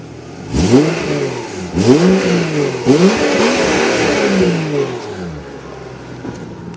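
A Subaru SVX 3.3 litre V6 engine revs repeatedly, rising and falling in pitch across three or four throttle blips before settling to a steady hum, loud and close.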